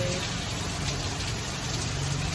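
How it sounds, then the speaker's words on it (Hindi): Steady rain pours outdoors in a dense, even hiss that fills the whole stretch without letup, close and fairly loud, with no voices. "बारिश होने लगी"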